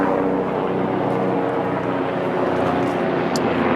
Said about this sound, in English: as this helicopter comes over